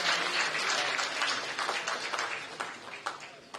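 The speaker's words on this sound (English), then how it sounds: "Please give them a huge round of applause" At a university convocation, the crowd applauds pharmacy diploma medal recipients with a broad wash of clapping that starts strong and gradually tapers off, with some voices mixed in.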